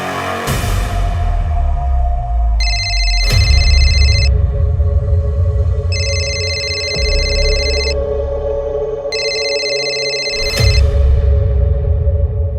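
A telephone rings in three bursts of electronic ringtone, each about a second and a half, over a steady background of music and ambient sound in a Crime Patrol Satark crime drama scene.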